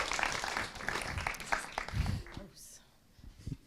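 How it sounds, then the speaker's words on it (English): An audience at a marriage seminar applauds, a dense patter of many hands heard under a speaker's voice, thinning out and fading after a couple of seconds. "can we give these two a round of applause?"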